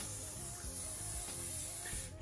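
Hairspray sprayed onto styled hair, a steady close hiss of the aerosol held for a couple of seconds without talk.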